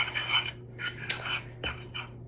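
Chocolate batter being stirred in a bowl, giving a few short scraping, rasping strokes with brief pauses between them, fairly close over a low steady hum.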